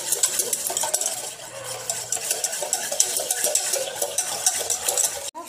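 A hand whisk beats a Dalgona coffee mixture in a bowl, producing a fast, continuous rhythmic clinking and stirring close up, with no talking.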